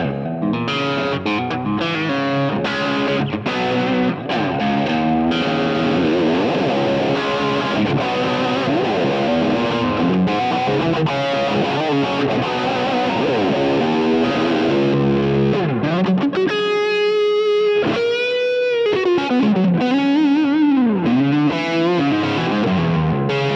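An electric guitar with a modern feel is played with a heavy distortion effect, loud and sustained, moving through chords and riffs and then into ringing lead notes with pitch bends toward the end.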